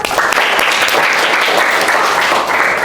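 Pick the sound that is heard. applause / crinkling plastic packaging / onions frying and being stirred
applause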